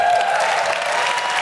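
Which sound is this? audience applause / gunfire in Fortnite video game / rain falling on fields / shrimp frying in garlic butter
audience applause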